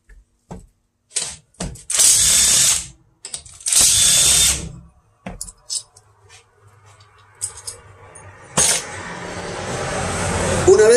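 Power tool spinning out engine cover bolts on a Shineray Thor motorcycle engine, with several loud whirring bursts and short clicks, close by, amid brief workshop clatter and a low hum.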